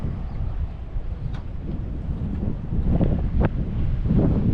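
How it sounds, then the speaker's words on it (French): Steady wind buffets a catamaran at anchor in the rain, a constant low rumbling roar with occasional gusty swells and faint knocks over the top, without voices. "il y a encore un peu de vent ici"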